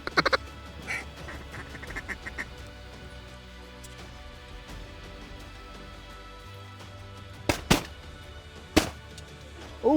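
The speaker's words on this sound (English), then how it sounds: "Even with less than optimal conditions," Mallard ducks quack repeatedly during a hunt, a scatter of nasal calls from several birds near and far, broken by a few sharp bangs that sound like shotgun blasts.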